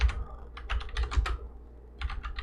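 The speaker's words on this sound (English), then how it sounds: "So you can just type them here, right? I can just type them." Quick, irregular keystrokes on a computer keyboard come in short clustered bursts with brief pauses between them. The clicks are close and clear, with no talking over them.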